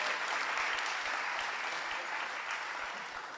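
Audience at a completion ceremony applauds steadily, a dense wash of clapping from many hands that holds for a few seconds and tapers slightly at the end.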